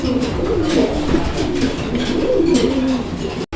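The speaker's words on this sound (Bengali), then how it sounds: "এখানে আরও এক জোড়া কবুতরের কালেকশন রয়েছে" Fancy pigeons at a pigeon market coo continuously nearby, several birds' throaty calls overlapping in a dense, steady chorus.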